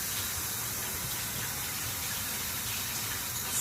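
Hands washed under a running kitchen tap, a steady close hiss of flowing water without a break.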